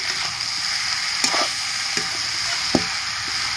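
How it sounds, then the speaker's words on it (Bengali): Ginger paste stirred into banana stem curry sizzling in oil, a traditional East Bengal vegetarian thor chhechki: a steady close frying hiss broken by a few soft scraping spoon strokes. "আদা বেটে রেখেছি দিয়ে দিচ্ছি, ভালো করে নেড়ে নিচ্ছি।"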